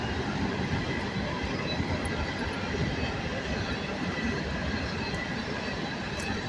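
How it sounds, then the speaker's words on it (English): A loud train rolls through a town at night, a steady dense roar and rumble of wheels and cars that holds at full strength throughout, close by, with no voices over it. "The train is so loud."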